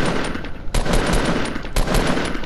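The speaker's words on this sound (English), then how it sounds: "Tried shooting them ultra long range" Rapid automatic assault rifle fire in the video game Fortnite, loud and close, delivered in two sustained bursts with a brief gap between them, no talking.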